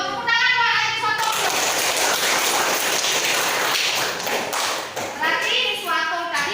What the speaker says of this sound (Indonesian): Tepuk tangan buat Niswato.